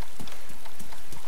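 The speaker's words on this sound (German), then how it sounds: "Ja, bei mir regnet." Steady rain in DayZ patters across a broadband hiss with scattered droplet ticks, a brief loud wash of in-game weather without voices.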